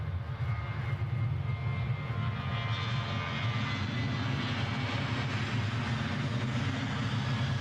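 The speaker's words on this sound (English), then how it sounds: "as we look at this Norwegian Air Sweden arrival" Norwegian Air Sweden airliner arriving at Edinburgh Airport, a continuous low jet engine rumble and roar, steady and moderately distant, no talk.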